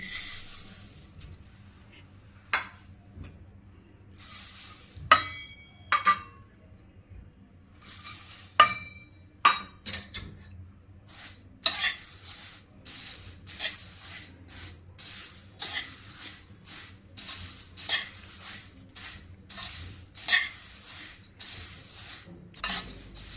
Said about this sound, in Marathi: आता आपल्याला थोडेसे कुरमुरे भाजून घ्यायचे आहे